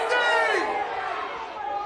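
An Australian rules football finals crowd at a senior men's match in Townsville, a swelling roar of many voices calling out together, fairly loud and sustained, gradually easing after the first second.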